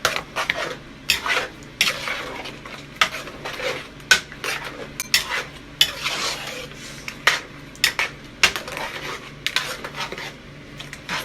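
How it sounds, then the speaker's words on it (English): Meat goes into a pot of okra sauce and is stirred, with a spoon clinking and scraping against the pot in irregular, fairly loud knocks and rubs. "I'm going to add my meat into my okra sauce."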